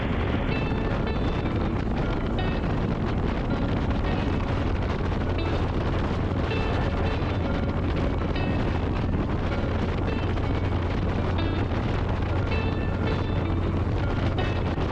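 Heavy wind buffeting a motorcycle rider behind a dirty windshield, a constant loud roaring rush with rumbling gusts and the engine's drone underneath, going on the whole time with no talking.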